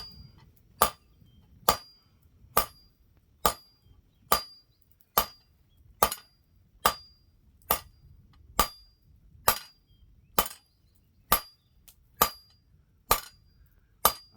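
Metal candle holder being hammered on an anvil, sharp ringing clinks struck at an even, unhurried pace, about seventeen blows, close and clear over a faint background rumble.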